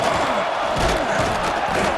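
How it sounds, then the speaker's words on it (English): A home crowd in the EA Sports College Football 26 video game roars steadily and loudly, a dense wall of cheering and yelling with occasional thumps, with no break for two seconds. "This crowd ready to make its presence known."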